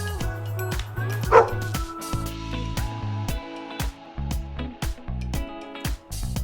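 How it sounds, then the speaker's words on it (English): A dog barks in several short bursts over a steady musical backing, the yaps fairly loud and evenly spaced. "The dog is at the door."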